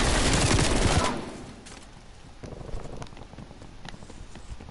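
Loud burst of Call of Duty gunfire for about a second, a dense fusillade that then drops to quieter scattered shots and game ambience.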